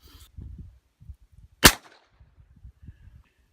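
A single sharp report from a semi-automatic firearm firing a blank during a tin can test, loud and close, standing out against a quiet background with faint low rumbles.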